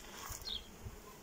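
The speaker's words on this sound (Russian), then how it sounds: "Пчела работает." Honey bees buzz at an apiary during acacia bloom, a faint steady hum with a few brief nearer passes, no voices.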